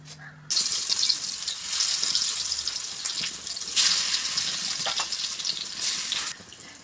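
Masala-coated pieces of tuna frying in a pan, a steady loud hiss and crackle that starts abruptly and carries on with slight swells, then stops near the end.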